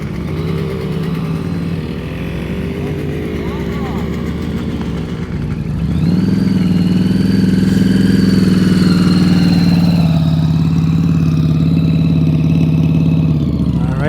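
Motorcycle engine during a slow-speed riding drill through tight turns, idling low and close at first, then the throttle opens midway into a louder, sustained steady rev that holds to the end.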